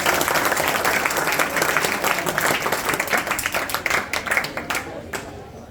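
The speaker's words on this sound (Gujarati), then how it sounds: "એકવાર જોરદાર તાળીઓ થઈ જાય આ શાનદાર પ્રસ્તુતિ માટે." A school annual function audience claps loudly in a dense, sustained burst that thins out into scattered claps toward the end.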